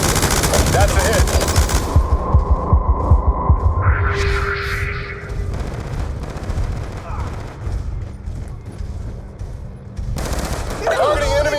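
Rapid machine-gun fire rattles in dense bursts amid a droning battle hum and explosions in the Call of Duty Black Ops 2 video game, loud and continuous with brief radio-like voice chatter.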